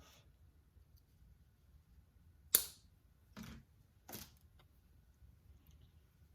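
Craft material for a Dollar Tree farmhouse sign is cut in three quick, separate snips, each sharp and close, in an otherwise quiet room.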